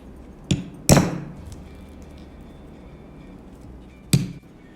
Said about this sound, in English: I'm going to be using a metal punch and a hammer